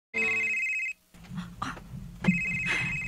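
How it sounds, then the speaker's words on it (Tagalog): A telephone rings with an electronic trill close by, a short burst, then a moment of room noise and faint movement before the ring resumes. "Abi na ko si Jomar ang nanawag da."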